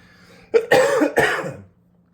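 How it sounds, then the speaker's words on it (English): Two or three harsh, close coughs in quick succession from a person recovering from COVID, loud and abrupt, followed by quiet. "Forgive the coughing"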